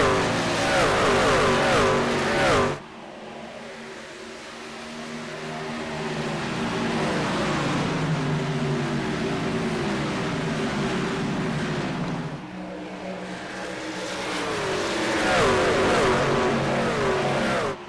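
Racing trucks roar around Homestead-Miami Speedway in a loud, continuous engine drone that rises and falls as they pass, with a sharp drop and lull before the pack builds again; no voices.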